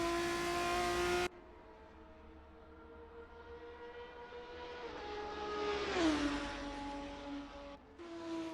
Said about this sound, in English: Max Janssen in the Honda F3 car.